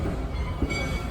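Kings Island amusement park train rolling backwards through track switches toward the engine house, a steady close rumble of wheels on rail with a brief low thump partway through.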